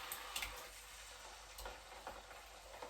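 Chopped tinned tomatoes land in a hot pan of melted butter and meatballs, giving a steady close sizzle and hiss with a few soft ticks and stirring clicks, no voices.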